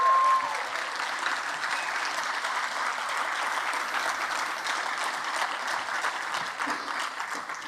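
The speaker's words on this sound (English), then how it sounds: "How about another round of applause for Maya?" Sustained audience applause for a Bharatanatyam arangetram dance performance, a dense, steady wash of many hands clapping at even loudness throughout.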